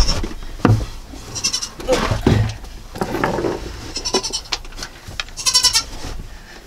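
A dairy goat bleats loudly several times close by while being milked by hand, with scuffing and knocking from her kicking between the calls.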